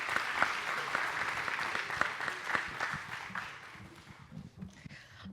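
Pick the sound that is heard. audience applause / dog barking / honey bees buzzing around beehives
audience applause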